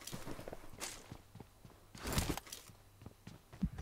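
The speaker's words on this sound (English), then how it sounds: "I can hear 2 footsteps." Soft footsteps in a battle-royale video game, several scattered quiet steps with occasional louder thumps against a faint background, no talk.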